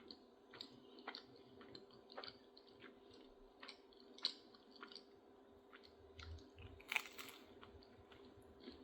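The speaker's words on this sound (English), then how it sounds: "That's that fresh out of the oven crunch." Crunchy fresh-baked food, steaming hot out of the oven and served alongside cheese ravioli soup, being bitten and chewed close up, with a series of sharp crisp crunches over a quiet background.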